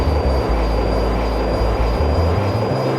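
Fighter jet engine at full throttle in the flight-combat game Fighters Anthology, a loud, continuous deep roar with rumbling low drone and a steady high whine, unbroken throughout.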